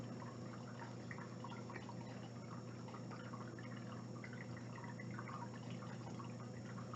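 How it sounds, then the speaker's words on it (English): A pet water fountain runs quietly, giving a constant soft trickle and low pump hum that stays steady and faint throughout, with no voices. "it's because of Speedy's water fountain. That's what the water running sound is."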